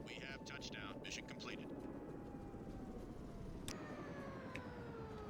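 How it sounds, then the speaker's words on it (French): A helicopter flies in the rescue-pilot video game SAR4, giving a faint, steady rotor and engine drone with a thin whine running through it throughout. "Un petit tour d'hélico."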